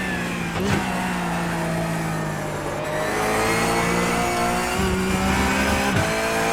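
A Porsche 911 GT3 Cup race car in iRacing at Interlagos, engine held loud and close as it revs and climbs through the gears, with brief dips at each shift and no talk.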